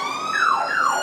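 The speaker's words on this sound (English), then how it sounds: "police siren in the back." A police siren wails with rising and falling sweeps, fairly loud and steady over a brief stretch, with no voices over it.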